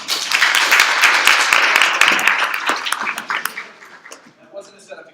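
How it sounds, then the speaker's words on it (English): Applause at a machine learning panel seminar, dense clapping that holds steady for a few seconds, then thins out and fades to a few scattered claps. "That wasn't a setup to get my applause."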